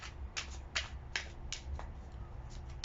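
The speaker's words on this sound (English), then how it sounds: "I'm going to put them back in the deck and shuffle again." A tarot deck is shuffled in repeated soft, papery riffles and snaps, about one every half second, close and moderately loud over a low room hum.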